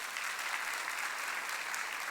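A church congregation at a Sunday worship service applauds in a dense, continuous wash of clapping, steady and fairly close, with no break across the short span.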